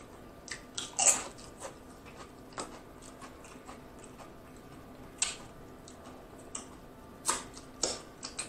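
A crunchy Taco Bell taco bitten and chewed close to the mic, with a run of sharp, brittle crunches at irregular intervals over a quiet background and no talking.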